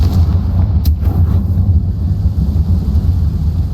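A Confringo fire spell explodes in Hogwarts Legacy, heard as a sharp crack followed by a heavy, continuous low rumble that stays loud throughout.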